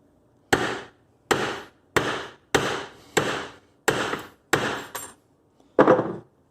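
Eight sharp metallic taps from a small hammer on a metal plate resting on an anvil, evenly spaced with short ringing decays, the last strike slightly heavier after a brief pause.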